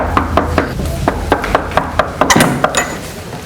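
Someone knocks on a door in a Hindi crime drama: about a dozen sharp, hollow raps in uneven bursts over a steady low background hum, close and fairly loud.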